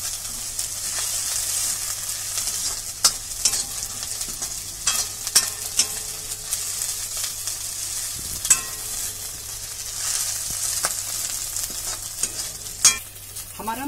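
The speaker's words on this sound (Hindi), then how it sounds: "इसको अच्छे से मिक्स कर लेंगे ताकि प्याज के साथ सही से भून जाए।" Ground spice masala frying with onions in a pan, a steady sizzle under repeated scraping and stirring strokes from a utensil, close and fairly loud with no talking.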